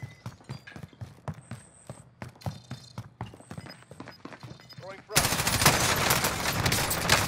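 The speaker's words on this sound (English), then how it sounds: "I got another one shooting at me." Rapid bursts of automatic gunfire crackle in a Call of Duty Rebirth Island match, followed by a sudden loud wash of noise, with a player's voice faintly under the shooting.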